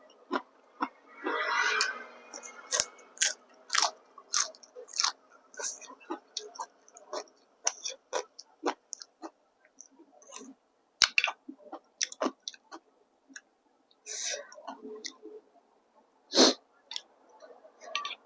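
Close, crunchy chewing of a Thai pounded salad with mushrooms, carrot and crisp choy sum flowers, bite after bite in irregular bursts with brief pauses, loud and near in an otherwise quiet setting.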